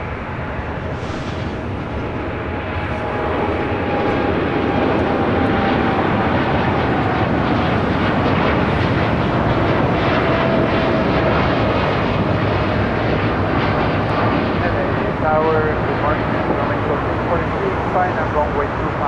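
An American Airlines Boeing 777 jet taxis toward runway 25 right at LAX, a steady, loud engine roar that swells and holds throughout with no pause.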